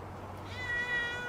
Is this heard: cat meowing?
yes